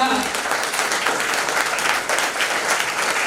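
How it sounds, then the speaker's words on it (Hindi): A seminar audience in Bihar gives steady, energetic applause to a wellness speaker, the dense clapping continuing throughout with a crowd murmur. "जबरदस्त ताली होना चाहिए।"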